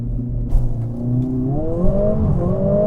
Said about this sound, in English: The sound on the A45S is just so much better than the A35.